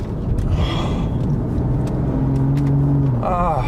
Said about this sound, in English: we're coming into a roundabout, and it's just like, I'm in normal modes, and go through the roundabout at the speed limit